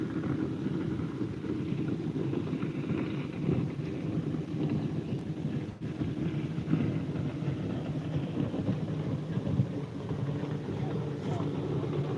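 Rain and wind pound a boat on the water near an island in a steady, loud rushing wash with low rumbling buffeting, continuous and unbroken throughout.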